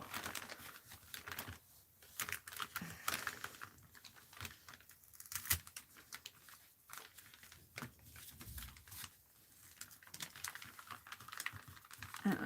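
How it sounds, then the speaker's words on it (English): Tape is pulled along a sheet of release paper during mixed-media art journaling, giving soft, irregular crackles and peeling rasps that come in uneven bursts, close and quiet. "I need a hand to hold the release paper and a hand to pull the tape along."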